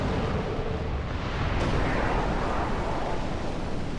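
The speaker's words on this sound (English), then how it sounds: "Good explosion sound effects" An explosion in the video game Final Fantasy XII: a loud, sustained rumbling blast with a sharper burst partway through, rolling on as dense low roar to the end.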